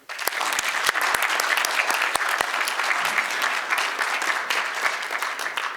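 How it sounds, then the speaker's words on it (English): Gala audience at a US-China dinner event applauding steadily, a dense wash of many hands clapping throughout, with a few sharper individual claps standing out near the start. "So maybe we could give them a round of applause"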